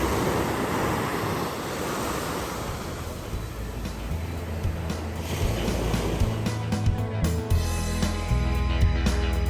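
Waves wash onto a secluded cove beach in Parque Tayrona, a steady rushing surf mixed with gusty wind buffeting the microphone.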